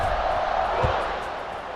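Stadium crowd noise roars in EA Sports College Football 26 after a scoring drive as the kickoff unit lines up, a broad sustained cheer with a brief thud near the middle, slightly fading at the end.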